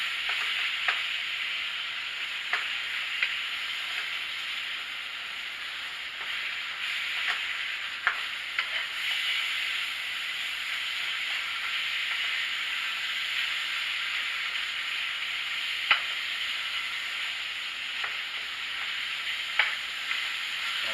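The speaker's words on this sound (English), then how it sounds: "I'm going to distribute the seasoning to all parts of the meat." Seasoned ground beef stirred in a frying pan, a continuous steady sizzle and hiss with occasional scraping clicks of the utensil, close and even throughout.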